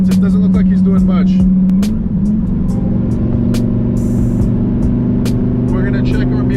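A car with a rear wing accelerates hard on a straightaway during a top-speed run, its engine note climbing after a brief dip as it shifts, then droning steadily and loudly up close.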